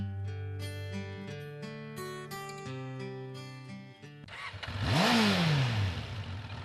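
An old motorcycle engine revs up, rising into a loud sweeping roar that peaks and then falls back. Before it, a tonal musical passage plays.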